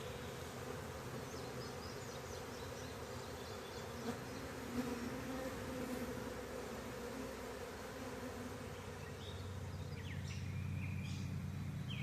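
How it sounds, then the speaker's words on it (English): A good-sized honeybee swarm being hived, a soft steady buzz of many bees drifting close and far, with faint birdsong in the background and a louder swell near the end. "we just hived up a pretty good sized swarm"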